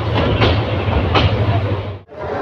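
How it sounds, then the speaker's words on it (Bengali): The Bolaka Commuter train from Mymensingh rolls up to platform 4 at Dhaka's Airport railway station with a loud, close rumble, rhythmic wheel clatter and a brief drop near the end. "এই বিমানবন্দর রেল স্টেশনের 4 নম্বর প্ল্যাটফর্মে আসলো ট্রেনটি, বলকা কমিউটার ট্রেনটি"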